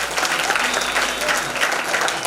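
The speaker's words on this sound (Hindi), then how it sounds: "जोरदार ताली बजाइए" Loud, dense applause from an audience at a Ramcharitmanas katha, a Hindu religious discourse, runs steadily for the whole stretch with no pauses.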